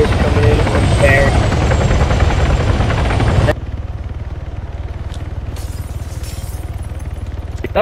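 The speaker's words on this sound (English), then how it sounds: "Two enemy choppers coming in." Enemy helicopters in a military combat simulator game: a loud, dense rotor roar fills the first half, then drops to a steadier, quieter chopping drone that continues to the end, with voices talking over it.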